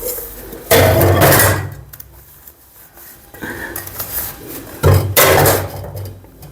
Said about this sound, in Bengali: ডেকচিগুলো সাফা করতেছি আমি